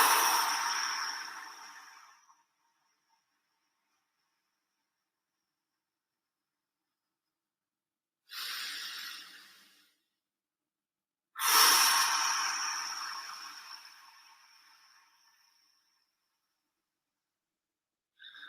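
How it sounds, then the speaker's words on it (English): Slow, deliberate breaths taken in through the nose and out through the mouth during a workout cool-down, heard close as soft airy exhales fading out with long silent gaps between them. "We're going to do some breathing."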